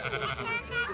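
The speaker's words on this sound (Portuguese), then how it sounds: "Tudo os bodes e as ovelhinhas aqui, ó." Goats and sheep bleat in overlapping calls at a farm during a June festival, close and moderately loud, with children and adults chattering underneath.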